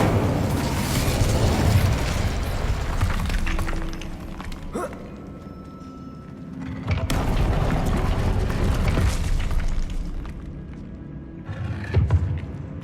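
The Incendio fire spell in Hogwarts Legacy is cast in loud whooshing, roaring bursts of flame with heavy booming swells. Several waves rise and fade, separated by quieter gaps, and no one speaks.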